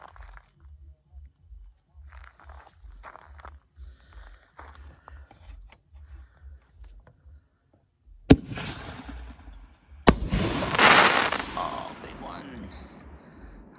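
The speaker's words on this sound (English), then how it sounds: "Our next shells are going to be the hammer shells from Pro Fireworks Black Diamond" Pro Fireworks Black Diamond hammer shell firework fired from a canister: a sharp launch thump, then a loud burst and a crackling, fizzing silver chrysanthemum break, after quieter rustling and low hum.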